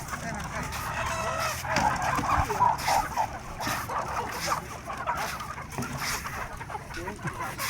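Chickens cluck and a rooster crows at the Ban Wang international border crossing between Vientiane Province, Laos, and Pak Chom, Loei, Thailand, where Lao fowl are brought across. Bird calls keep going over a busy outdoor bustle, with voices nearby.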